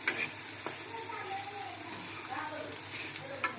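Tender ponk seasoned with salt sizzles and fries steadily in a pan, a constant close hiss with faint stirring scrapes and one sharp clink near the end.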